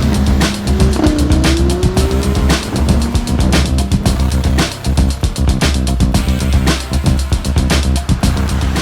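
A 2015 Lamborghini Huracán sports car on winding roads toward Palm Springs, its loud engine roaring and shifting pitch through gear changes, with tire noise and rapid bursts close up and continuous.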